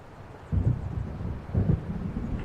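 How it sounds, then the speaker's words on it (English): Deep thunder rumbles from an approaching storm in the video game Alan Wake, two low swells about a second apart over a steady windy background, no voices. "It seems there's a storm coming."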